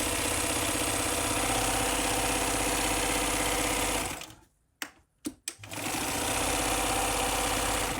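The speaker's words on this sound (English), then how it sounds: "We're now sewing together the bottom edge of the bag." Sewing machine running steadily while stitching the bottom edge of a fabric bag, a loud continuous motor hum that stops for about a second with a few short bursts before resuming.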